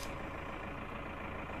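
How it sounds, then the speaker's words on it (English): Zetor Proxima tractor engine in Farming Simulator 19, a steady, loud low rumble with broadband diesel drone throughout and no talk. "As we go to move the tractor"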